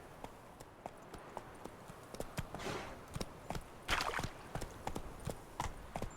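Hooves of the horse Roach clip-clop at a steady walking pace in The Witcher 3, crisp regular hoofbeats over a soft outdoor ambience, growing slightly louder midway.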